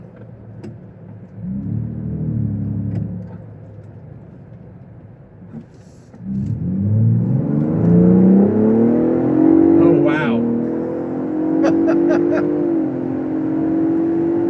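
A Ford Bronco Raptor's engine rumbles low, then surges into a loud, rising acceleration roar that holds strong for several seconds, with a passenger exclaiming over it.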